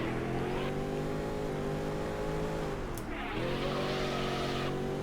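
A car engine in the Auto Modellista racing video game holds a steady mid-pitched drone, dipping briefly as if shifting or braking, then rising again, loud and continuous with no talk.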